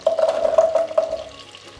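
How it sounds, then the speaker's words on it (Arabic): Onions hitting melted butter and olive oil in a pan give a loud, close sizzle with bubbling and stirring, steady at first and easing toward the end. "على الزبدة وزيت الزيتون عم نزل عليهم البصل لحتى اقليهم."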